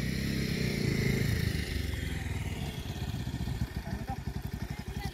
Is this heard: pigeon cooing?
no